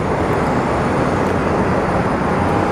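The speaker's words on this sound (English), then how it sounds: "our Boeing business jet is coming in there. It's rolling into the takeoff spot." A Boeing business jet taxis into its takeoff spot at Sky Harbor airport, a steady, loud broadband jet rumble and hiss holding constant without any break, heard alone with no talking.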